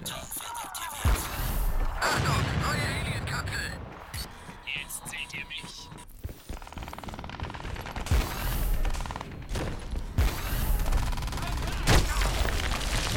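Loud, chaotic explosions of a capsule in Crysis 3 with rapid bursting blasts filling the clip, repeated sharp booms amid constant crackling noise.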